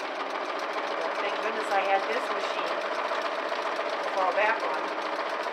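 An old sewing machine runs steadily through fabric for a wreath and candleholder centerpiece, a continuous mid-pitched mechanical whir with small bursts, while a person talks briefly over it.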